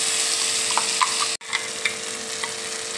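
Ground pea paste hits hot oil in a wok, giving a loud continuous close sizzle with a few stirring scrapes and one brief sharp break in the sound.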